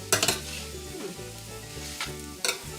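Onion, okra and sausage cooking in a pan, with a steady sizzle under loud stirring scrapes and clatters of a utensil against the pan at the start and end.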